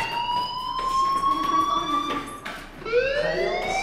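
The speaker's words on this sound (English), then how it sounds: "do you hear that fire alarm? That means you should be outside." A loud electronic fire alarm sounds in the video game Life is Strange, with steady rising and falling siren-like tones that continue without pause and briefly dip before swelling again.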